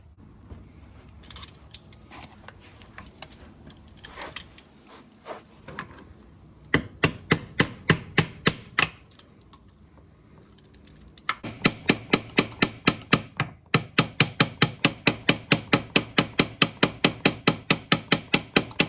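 Metal tool strikes against a car transfer case during teardown, a flathead being driven to pry the casing loose: uneven taps at first, then two long runs of rapid, sharp, evenly spaced impacts, close and loud.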